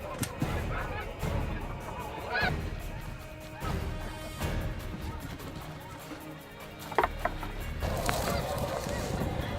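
Snow geese honk repeatedly in a loose flock chorus during a spring hunt, mixed with sharp shotgun bangs and bursts of nearby voices.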